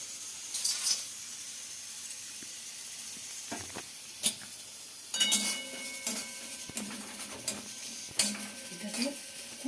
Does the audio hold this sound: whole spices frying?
yes